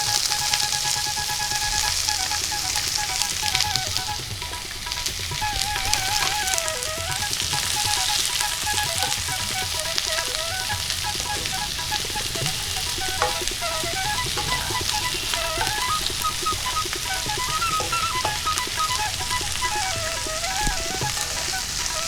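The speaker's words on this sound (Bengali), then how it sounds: "কাঁচা পেঁয়াজগুলো দিয়ে দিচ্ছি ভাজার জন্য" Steady, dense sizzling of raw onions frying in hot oil for mutton curry, continuous and close, with occasional stirring scrapes and faint beeping tones in the background.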